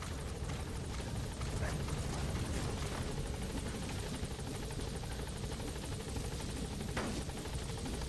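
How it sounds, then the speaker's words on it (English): Support helicopter arriving in Metal Gear Solid V: The Phantom Pain, a steady rotor thrum and engine roar filling the whole stretch at constant loudness, with faint game effects over it. "Support helicopter has arrived."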